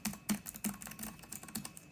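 Rapid typing on the Cherry mechanical low-profile keyboard of an Alienware X17 laptop, a close, steady run of crisp key clicks with a few heavier thocks, no voices.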